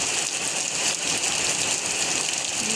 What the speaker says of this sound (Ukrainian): А, падає все-таки град.